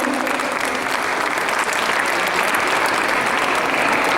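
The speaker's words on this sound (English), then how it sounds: "Audience, can you please have a round of applause for them?" An audience at a PYP 5 primary school graduation ceremony claps steadily in a loud, dense wash of applause that holds without a break from start to finish.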